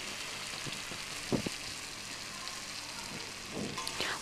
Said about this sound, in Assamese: এতিয়া আমি ইয়াতে পটল আৰু আলুখিনি দি লম